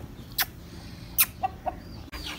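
An Aseel hen makes a few short, sharp clucks, spaced out and fairly close, before being vaccinated, with a quiet background in between.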